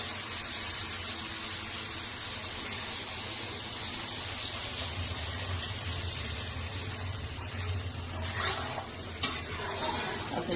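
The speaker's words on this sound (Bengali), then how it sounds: "এবার আমি জল দেবো।" Water poured into a pan of lightly fried vegetables, drumsticks and potato, for a thin rohu fish curry, giving a steady hiss and sizzle with faint stirring clatter, close and continuous throughout.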